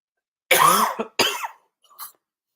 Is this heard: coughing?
yes